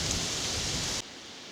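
Wind gusting on an exposed country walk along the Hambleton Peninsula, a loud, steady broadband rush that stops abruptly about a second in, leaving only faint residual noise.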